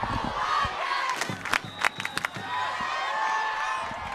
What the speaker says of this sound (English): the entire crowd is chanting, "Let's go Wildcats," the home team